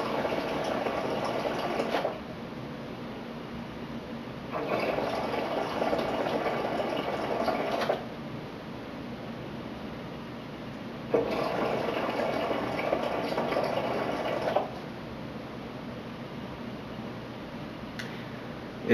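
Tangiers hookah bubbling as someone takes puffs, three loud watery gurgling bursts of a few seconds each, separated by quieter gaps, close and with no talking.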